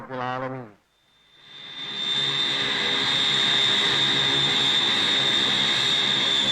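A special airplane arrives at the TUDM Kuantan airfield, a loud sustained jet-engine roar with a high whine that builds after a brief burst of music and then holds steady.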